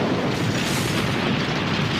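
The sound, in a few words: Earth exploding in video game Les Zinzins de l'Espace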